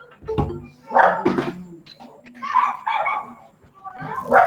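Small pet dogs yipping and barking indoors in a living room, with a few short sharp bursts rising over the continuous talk of someone speaking.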